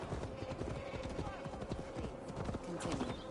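A ridden horse clip-clops at a steady walking pace through untamed Gloucestershire countryside, hoofbeats continuous and moderately close beneath a busy layer of voices and ambience.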